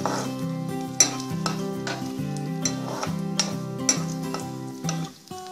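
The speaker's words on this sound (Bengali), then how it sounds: "ওই একই তেলে কাজু বাদাম আর কিশমিশটা একটু হালকা করে নেড়ে নেব" Cashews and raisins stirred lightly in hot oil over low heat, a soft steady sizzle under repeated metal scrapes and clinks of a spoon against the pan, with a few sharper knocks.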